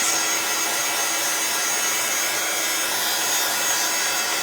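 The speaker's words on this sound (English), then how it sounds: "I'm going to give these a quick heat" A heat tool blows hot air to dry metallic ink from craft ink pads, producing a constant, loud, even rushing roar with no breaks.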